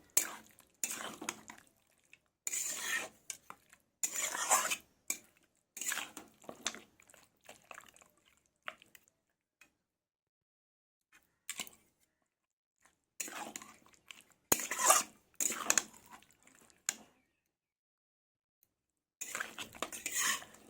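Mutton is mixed with spices in a bowl by hand, giving wet squelching and clinking in repeated short bursts separated by quiet gaps, close and fairly soft.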